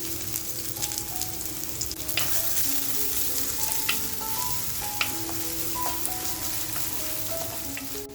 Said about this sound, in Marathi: आपण जो कांदा कापून घेतलाय तो कांदा ह्याच्यामध्ये छान असा फ्राय करून घ्यायचा आपल्याला